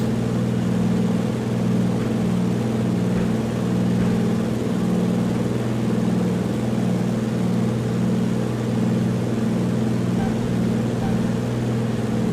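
Bush plane from Flight Simulator X with its engine at full power for a max performance takeoff in the ORBX Kokoda bush, a steady loud droning hum with pulsing low harmonics running unbroken throughout.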